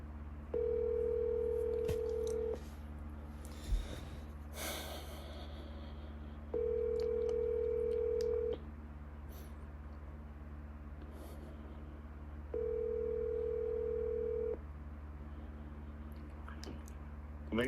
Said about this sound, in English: So now I'm going to dial my second number.